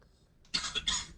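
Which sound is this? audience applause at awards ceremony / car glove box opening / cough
cough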